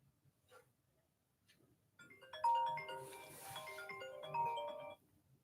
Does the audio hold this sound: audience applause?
no